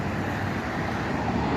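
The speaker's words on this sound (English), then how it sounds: "Golly, I hate traffic up here." Steady city road traffic rumbles continuously, a dense broadband wash of passing vehicles heard from inside or near a truck, with no voices.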